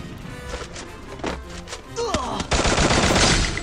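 Gunfire in the mobile battle-royale game Free Fire, a burst of shots sounding from about the two-and-a-half-second mark and packed tightly together, loud and continuous to the end, following scattered thumps and in-game effects.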